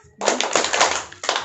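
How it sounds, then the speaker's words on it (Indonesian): A group of parents claps a rhythmic spirit clap in a parenting class, starting with a dense run of close, loud hand claps after a brief pause, then a short gap and a final burst of claps. "Tepuk semangat."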